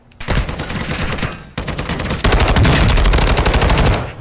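Rapid automatic gunfire in the video game Warzone 2.0, loud and dense bursts filling the whole stretch with a brief break midway, then an even heavier sustained volley, no talk over it.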